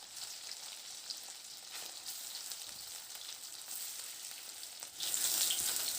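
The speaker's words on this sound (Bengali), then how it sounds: "এবার পরের ব্যাচটাকে দিয়ে সেমভাবে লাল লাল করে একটু ভেজে নেবো" Battered bottle gourd fritters fry in a pan of oil with a soft, constant crackling sizzle that swells louder near the end.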